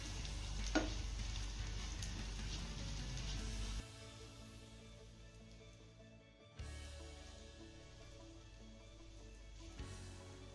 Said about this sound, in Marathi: फोडणीमध्ये वड्या घालून झाल्यानंतर अगदी हलक्या हाताने आलटी पलटी करत ह्या वड्या आपल्याला दोन ते तीन मिनिटं चांगल्या परतून घ्यायच्या आहेत